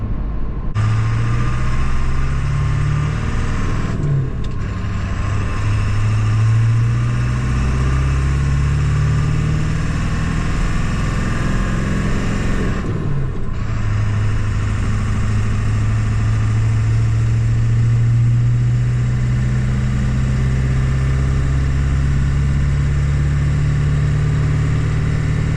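A Ford 7.3 Powerstroke diesel pickup truck tows a loaded dump trailer, its engine droning steadily from the cab, with two brief dips and the pitch climbing as it shifts through gears.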